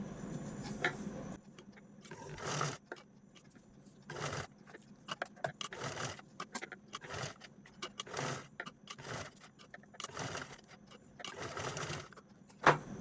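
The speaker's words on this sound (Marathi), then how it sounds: "चला मी लगेचच स्टिच पण करते" A home sewing machine stitches velcro onto a small fabric piece in short bursts, each run of rapid needle chatter stopping and restarting, close and fairly quiet with handling noises between.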